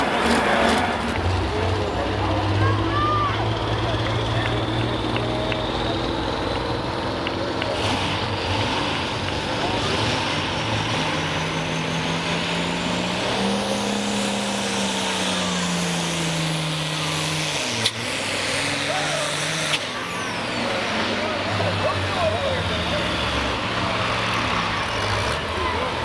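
A turbocharged pulling tractor roars continuously at a tractor pull, a loud, rough engine drone with shifting pitch as the revs sag, heard outdoors from a distance with wind noise.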